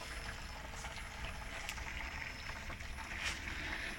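A hydrogen generator unit for motor homes running at 22 amps, with water bubbling steadily inside its container, a faint continuous fizzing churn up close with no talk.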